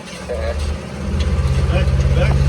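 A 1969 Chevy C50 grain truck with a five-speed and splitter drones with a low engine rumble that swells and pulses as it shifts gears, with a voice heard over it.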